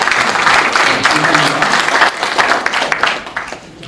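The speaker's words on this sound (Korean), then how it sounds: "귀한 명강의를 해주신 우리 김영석 교수님에게 다시 한번 감사의 박수를 드리겠습니다." Loud audience applause thanks a professor after a lecture on Korean history. Dense, close clapping from a sizeable crowd carries on for several seconds, with some talk under it, then thins out and fades toward the end.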